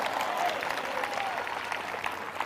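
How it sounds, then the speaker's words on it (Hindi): Church congregation clapping during a Hindi-language prayer service, a steady dense wash of hands throughout, with faint voices and crowd murmur mixed in. "जिनको विश्वास है वो ताली बजाकर मुस्कुरा रहे हैं"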